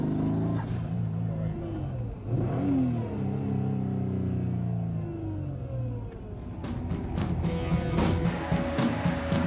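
A Toyota Hiace van fitted with a Nissan R35 GT-R VR38 engine revs and pulls away, the engine note sweeping up and down through several gear changes before a second burst of acceleration.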